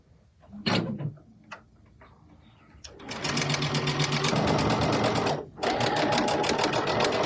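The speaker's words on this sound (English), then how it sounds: "I'm just going to sew a 1/4 inch on both sides of the drawn line" A sewing machine stitches a quarter-inch seam on quilt fabric: a few handling knocks and clicks first, then a steady, fast, close mechanical whir for several seconds with a brief pause before resuming.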